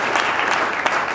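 A church congregation claps in a dense, even burst of applause that stays loud and unbroken for a brief moment.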